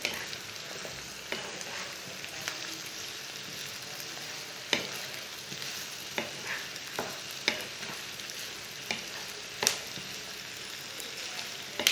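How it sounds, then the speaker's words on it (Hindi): Sliced onion and okra fry together in a pan, giving a soft continuous sizzle punctuated by scattered crackles and light stirring scrapes, fairly quiet and without speech. "प्याज और भिंडी को एक साथ भून लेना।"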